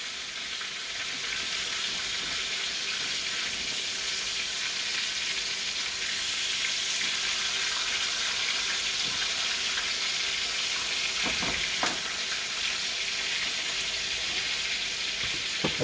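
Pork chops pan frying in hot fat for a country-style dinner with gravy, a steady broad sizzle that carries on evenly throughout with a few faint clicks and no talking.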